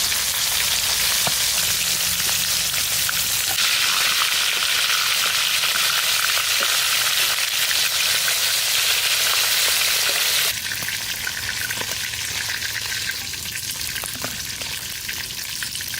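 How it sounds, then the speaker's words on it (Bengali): Snakehead (shol) fish fries in hot oil, a loud, close, continuous sizzling hiss that shifts in intensity partway through, with no talking. "তেলও গরম হয়ে গেছে, আমি শোল মাছটা ভাজে নেই।"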